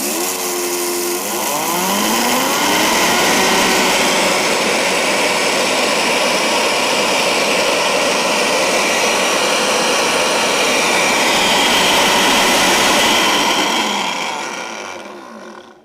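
A Vitamix blender grinds seeds into a fine powder, a loud steady roaring whir that spins up over a couple of seconds, holds for about twelve seconds and then winds down.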